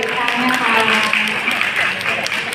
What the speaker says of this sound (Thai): ขอเสียงปรบมือดังๆให้กับ เจ้าบ่าวเจ้าสาวนะคะ